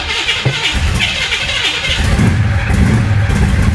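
A 1966 Chevy Impala SS with a freshly replaced fuel system cranks and catches, its engine firing up and rumbling louder near the end, close and fairly loud.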